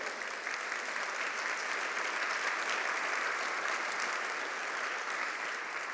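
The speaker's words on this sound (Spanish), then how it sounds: "Dele palmas al Señor por eso." A church congregation applauds in a steady, dense wash of clapping that holds evenly for several seconds at a moderate distance, with no clear talk over it.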